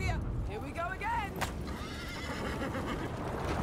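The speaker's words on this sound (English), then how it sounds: "Ah, the horses." Horses in the video game A Plague Tale: Requiem give a rising, shaky whinny over steady hoof clip-clops and a noisy game backdrop, with a voice talking along.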